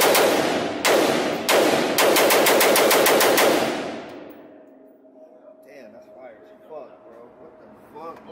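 A PSA JAKL rifle dumps its magazine at an outdoor gun range: a few single shots, then a fast, loud string of close gunfire that stops abruptly, followed by quieter talk in the background.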